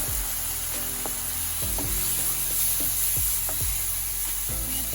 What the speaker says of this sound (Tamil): வெங்காயம் நல்லா பொறிஞ்சு வந்து வந்துட்டு நல்லா தக்காளி பழத்தை சேர்க்கலாம்